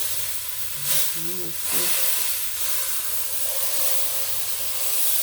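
Food browning and caramelizing in a pan, a continuous bright sizzle and hiss that swells and steadies, while someone talks briefly over it.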